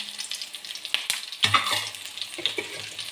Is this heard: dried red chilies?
yes